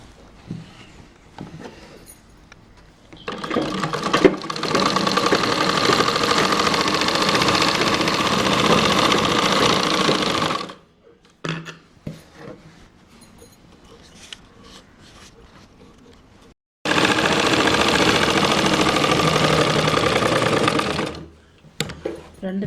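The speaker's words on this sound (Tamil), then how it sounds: "தையல் அடித்தாச்சு இப்போ மூணாவது தையல் அடிக்கிறோம்" A sewing machine stitches a simple blouse in two long, steady runs of several seconds each, loud and continuous, with a brief pause and handling noises between them.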